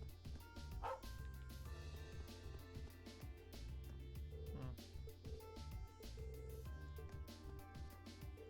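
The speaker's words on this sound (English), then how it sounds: "Oh, doggy." A dog barks in the video game Trails of Cold Steel, a few short yips and woofs set in a steady, dense bed of game music that runs throughout.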